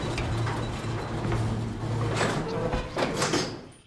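A sliding door in the video game BioShock Infinite opens with a sustained mechanical rumble and hiss over a few seconds, fairly loud against a low game hum.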